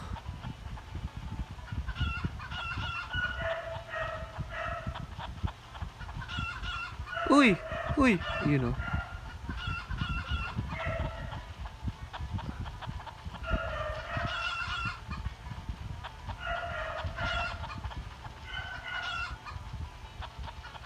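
Repeated chicken clucks and squawks from an Android video game sound in short bursts, with one louder, sharper outburst midway and brief voices speaking now and then.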